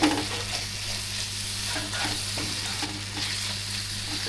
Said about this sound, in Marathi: कांदा, मिरची, आलं, लसूण याच्यामध्ये कालवे शिजत ठेवलेत